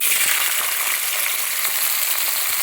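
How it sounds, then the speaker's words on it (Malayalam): Chopped elephant yam hisses and sizzles in hot oil in a pan, a loud, dense, continuous crackle heard up close with no voices. "ചേന അരിഞ്ഞ് ഇട്ട് കൊടുക്കുന്നു"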